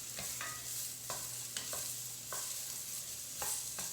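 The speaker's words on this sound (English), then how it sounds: "So I'm going to let this saute for 3 minutes" Fennel sautéing in a pan for mussels with white wine, a steady close sizzle broken by several scraping stirs of a utensil at irregular intervals, with no voices.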